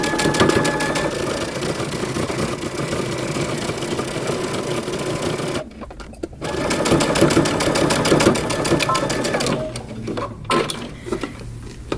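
A sewing machine stitches a 5/8-inch seam on a long coat, running in steady fast bursts with brief pauses between runs.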